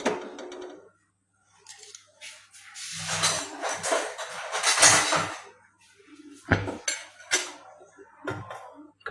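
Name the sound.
kadai pan placed on the stove, pots clattering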